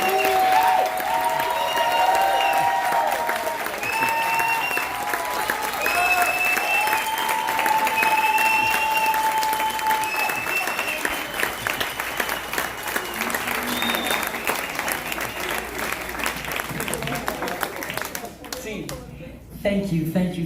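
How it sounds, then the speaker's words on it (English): Sustained audience applause at an international Latino theater festival, a broad, continuous roar of clapping with cheering voices rising over it, lasting many seconds before thinning out near the end. "Please join me to give her a round of applause."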